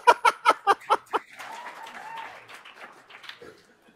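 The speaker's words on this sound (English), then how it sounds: "Everybody get clapping." Audience at the Code4Lib 2023 conference, a few sharp rhythmic claps in a steady beat, followed by scattered light clapping, murmurs and chuckles fading out in a hall.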